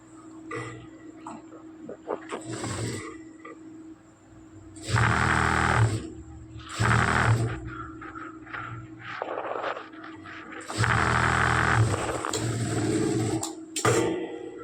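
A sewing machine stitches a folded sleeve fabric, its motor whirring in several short runs of a second or two, separated by quieter pauses of handling.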